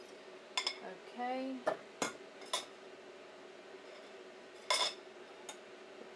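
A spatula scrapes around a mixing bowl during pound cake batter prep, giving a few short clinks and one drawn scrape, close and fairly quiet, with a brief spoken word.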